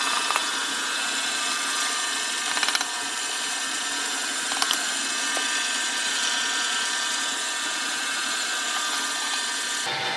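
An electric mixer creams butter and flour for a mini pecan tart crust, a loud, steady whirring drone that runs unbroken from start to finish with no voices over it.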